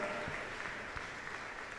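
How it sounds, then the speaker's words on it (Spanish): A church congregation at a novena for the Immaculate Conception applauds, a faint, steady wash of many hands clapping at a distance, with no single claps standing out. "Démosle un fuerte aplauso"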